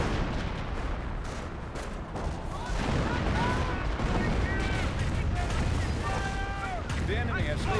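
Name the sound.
artillery barrage in Company of Heroes video game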